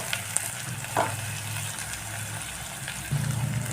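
Chopped onion, asafoetida and green chillies sauté in a pan for a puffed-rice poha breakfast, giving a steady, close sizzle with a couple of brief clinks from stirring.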